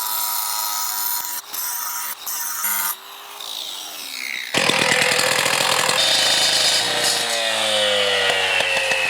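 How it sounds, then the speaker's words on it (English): Angle grinder scoring natural stone veneer, a loud steady whining grind with a rough rasp that surges to full strength partway through after brief lower bursts. "That's why we're scoring it with the angle grinder."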